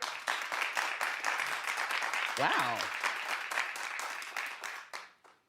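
A studio audience on a daytime talk show claps steadily, dense applause that fills the room and fades out at the end, with a voice speaking briefly over it.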